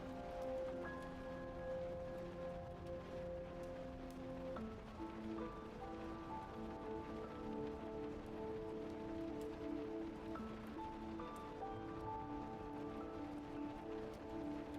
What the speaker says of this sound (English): I want it to kind of like be a little bit background and relax with the rain sounds.